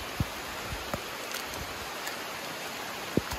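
Rain falls in a hilly forest, giving a soft, even wash of patter with a few scattered close drops and light rustles, faint and steady, with no voices.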